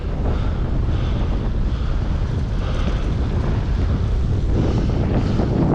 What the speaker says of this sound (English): Gosh, it is windy.